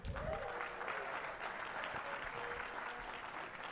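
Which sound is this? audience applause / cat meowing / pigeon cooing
audience applause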